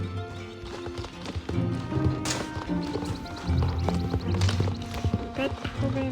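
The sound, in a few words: horse hooves clip-clopping in Star Stable Online, a video game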